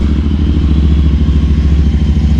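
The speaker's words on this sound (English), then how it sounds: "Let's hit start. There it is at an idle." A Royal Enfield Continental GT 650 with ZARD aftermarket exhaust pipes idling up close, a loud, deep, steady thumping rumble with an even rapid beat.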